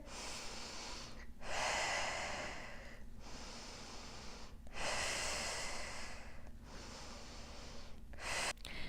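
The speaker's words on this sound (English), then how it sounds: "I like to exhale as I lift and inhale back down" Slow, audible breaths during a glute bridge exercise, alternating long exhales and inhales in a steady rhythm, close and fairly soft against a quiet room.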